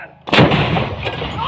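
Indian Army artillery gun test firing: one loud, close boom after a quarter second of quiet, then a long rolling rumble and echo trailing off with no talk.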